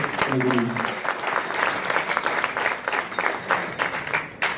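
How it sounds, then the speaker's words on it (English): Sustained applause from a crowd, dense steady clapping that carries on throughout, with a few voices mixed in. "Please give her another round of applause for the president."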